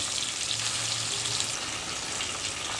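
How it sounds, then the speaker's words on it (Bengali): Chicken pieces deep-frying in hot oil in a pan, a dense, steady crackling sizzle heard up close and continuously, with no voices. "চিকেনটা একদমই ভাজা হয়ে গেছে ঠিক এভাবে করে ভেজে নেবেন"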